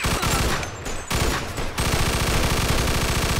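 Sustained automatic machine gun fire in a Mafia II gunfight, loud and close, a rapid steady stream of shots with a brief gap before bursting on without pause.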